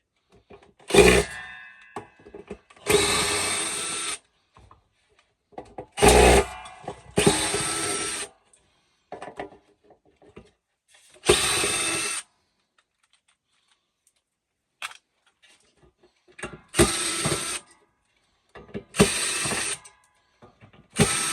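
Ratcheting tool working a stubborn steel fastener on a solar inverter, heard as repeated bursts of close, loud clicking strokes separated by pauses, with no talk.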